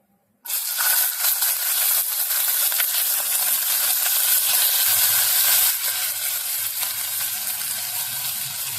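Asafoetida, ginger and tomato frying in a pan for a Bengali chickpea dal: a loud, steady sizzle starts abruptly after a brief silence and continues close up without pause, with no talking.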